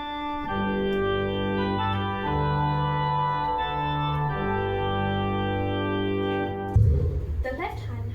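An organ's right hand holds sustained chords through the closing phrase of Amazing Grace, changing every second or two. A voice breaks in briefly at the very end.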